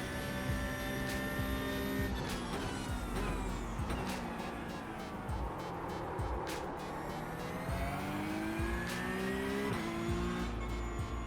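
A race car in a sim racing video game roars steadily, its engine pitch sweeping up through the gears and dropping under hard braking, with tire squeal mixed in, loud and continuous throughout.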